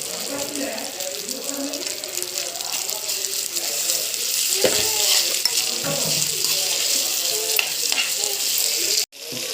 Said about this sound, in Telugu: ఇప్పుడైతే అల్లం వేద్దాం ఒక స్పూన్ అల్లం